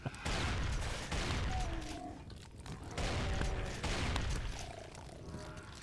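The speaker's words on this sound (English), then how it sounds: "I'm shooting you all with my shotgun." A shotgun fires in a video game as rough, booming blasts in a quick fusillade, fairly faint in the mix with rumbling game sound around them.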